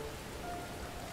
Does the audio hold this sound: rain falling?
yes